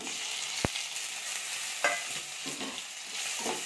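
Tomatoes and onion sauté in a pan for an eggplant thokku, a steady close sizzling hiss broken by a couple of quick spatula knocks against the pan.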